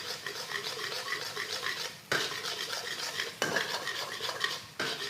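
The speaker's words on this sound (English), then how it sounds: "Give that a good stir around." A utensil scrapes and stirs around a wok in quick repeated strokes, with a faint sizzle underneath from boiling, thickening salted egg yolk prawn sauce; brief pauses break the motion twice.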